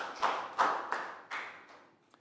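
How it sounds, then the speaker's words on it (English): Four bursts of classroom clapping for a student in a Year 3 maths lesson, each swelling sharply and fading, with a single faint tap at the end and no talking. "Big round of applause for Pak Bung."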